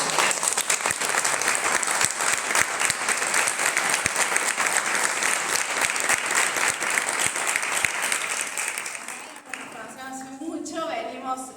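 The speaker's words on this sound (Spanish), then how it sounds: "a los cuales les pido un fuerte aplauso" A large audience at a debate on a national law for therapeutic companions gives strong sustained applause, a dense even wash of clapping that holds for about nine seconds before fading into someone speaking.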